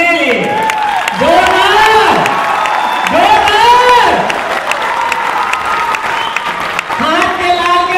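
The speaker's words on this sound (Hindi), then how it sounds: "एक बार जोरदार ताली अपने लिए।" A large audience at a Safe Shop business meeting applauds strongly, with loud shouted voices and cheering rising and falling over the steady clapping throughout.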